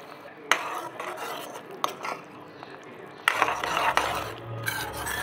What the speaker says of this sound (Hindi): अब सारे मसाले को कम से कम 2 मिनट तक पकाएं, मिक्स करके